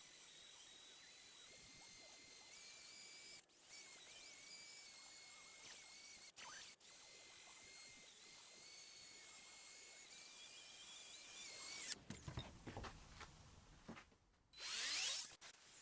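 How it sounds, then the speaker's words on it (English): A combi drill fitted with a polishing pad buffs an oak and epoxy resin table top, giving a steady high-pitched whine with brief interruptions, then stopping near the end for scraping and rubbing handling sounds, close and moderately loud. "like a little polishing pad thing on my combi drill"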